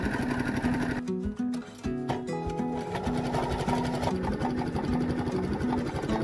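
Sewing machine running zigzag stitches over fabric edges for a coat, a rapid mechanical chatter with a brief stop and restart partway, close and steady, no talk.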